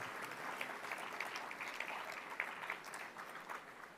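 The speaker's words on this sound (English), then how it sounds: "Let's have another round of applause for our inspiring students," Audience applause at a community college awards dinner, a steady wash of many hands clapping that holds moderately loud for the whole stretch with no speech over it.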